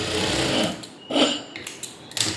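A sewing machine stitches a blouse lining in short bursts, its motor whirring in a quick run, pausing, then starting again close by.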